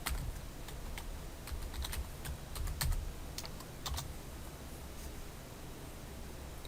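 Steady clicking keystrokes on a computer keyboard, close and moderately loud over a constant background hiss, as a search term is entered without anyone speaking.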